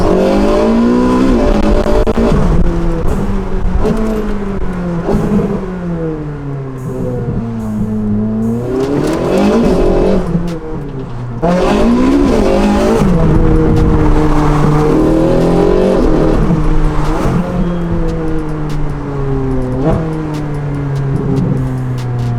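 A Ferrari 458 Speciale V8, its exhaust valves stuck closed, revs hard to high RPM again and again, loud and close, the engine note sweeping up and down in repeated surges over about twenty seconds.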